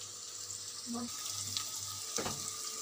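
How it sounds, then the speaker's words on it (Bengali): Onions frying in oil in a pan for a mutton curry, giving a steady broadband sizzle with a few brief clinks and stirring knocks and no talking. "পেঁয়াজটা ভাজা হচ্ছে"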